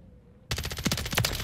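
Rapid automatic fire from the HRM-9 submachine gun fitted with recoil-controlling attachments in a video game, bursting in abruptly after a quiet moment and continuing as a dense, loud stream of shots.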